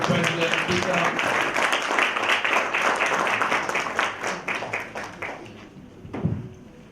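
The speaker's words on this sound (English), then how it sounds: "could we have a huge round of applause for Mr. President Peter?" An audience applauds with dense, steady clapping that gradually thins and fades out near the end.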